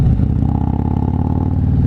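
A motorcycle's M8 114 engine fitted with an S&S 475 cam revs hard and loud at close range, a steady throaty roar held throughout with no voices.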